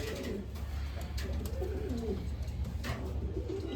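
Pigeons of an old lineage, kept in a cage, cooing in low, repeated, throaty calls close by over a steady background hum, with a few faint higher chirps.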